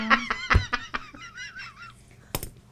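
A human voice imitates a goose honk in a few short nasal bursts, followed by a drawn-out warbling tone and more quick honk-like yelps, heard close and alone.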